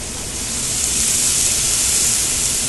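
Veal broth poured into a hot pan sizzles in a steady, loud, broadband hiss that holds evenly throughout, with no talking over it.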